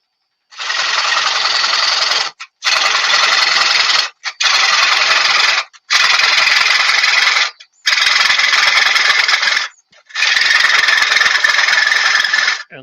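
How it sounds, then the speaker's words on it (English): A bowl gouge with a small relief grind cuts a wooden bowl on a lathe, making six steady rasping passes of about two seconds each, separated by short pauses, loud and close with no talk. "this section seems to be cutting far better than the first bowl that I tried to cut"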